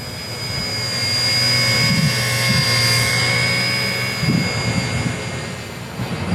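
An RC ERA C032 UH-1 Huey model helicopter hovers outdoors in light wind, its small rotor and motor giving a steady, loud whine with a thin high tone that swells slightly as it drifts.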